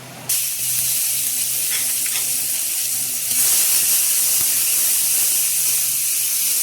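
Chopped onion hitting a hot pan with cinnamon and cardamom, setting off a sudden loud, steady sizzle that swells partway through and keeps hissing without a break. No one speaks.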